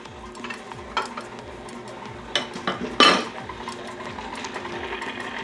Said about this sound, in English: we're just gonna mix that till it comes together